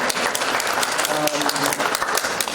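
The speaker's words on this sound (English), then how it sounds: "I'd like every Nigerian here to clap for themselves" An audience at a foundation launch event claps steadily for themselves, a dense, loud round of applause with a voice heard over it.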